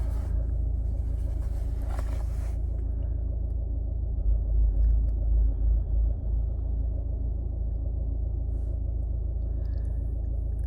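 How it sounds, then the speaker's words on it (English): A car rolls into a space in a car park, its low engine rumble steady and fairly close throughout, swelling briefly near the middle, with no voices. "someone's just come on the car park and took the space immediately"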